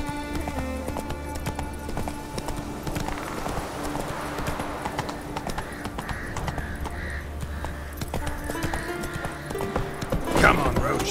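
Hooves of the horse Roach in The Witcher 3, a steady clip-clop of galloping heard throughout under game music and ambience, with a short louder flourish near the end.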